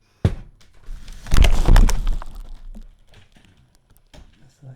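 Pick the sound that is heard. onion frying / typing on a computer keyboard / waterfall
typing on a computer keyboard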